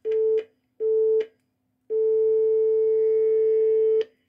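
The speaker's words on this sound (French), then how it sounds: "je vais envoyer du 440. Donc j'ai bien la tonalité." A 440 Hz telephone tone on a payphone operator's switchboard sounds as two short, steady bursts and then one long sustained tone. It is loud and clean, with no talking.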